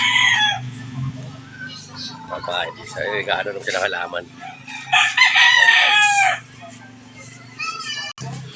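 Chickens cluck and a rooster crows repeatedly on a farm, loud and close, mixed with children's voices and people talking nearby.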